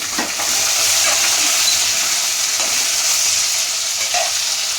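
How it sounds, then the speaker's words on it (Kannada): Four onions sizzle loudly in a pan alongside 10 to 12 fried Byadagi chillies, a steady close hiss throughout with a few faint stirring scrapes and no talk. "ಫ್ರೈ ಆಗಲಿ. ಇವಾಗ ಒಂದು 4 ಈರುಳ್ಳಿ"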